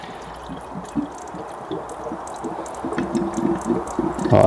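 Water poured into a car radiator, a soft low gurgling and splashing stream that grows fuller and louder toward the end, with faint clicks and small knocks around it.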